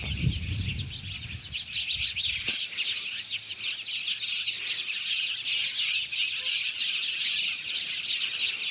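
Many birds chirp continuously on a farm, a dense high twittering chorus that persists throughout, with a brief low rustle of wings or movement near the start.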